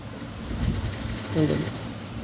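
Sewing machine running steadily while stitching a blouse along a border, with a voice talking over the motor's hum.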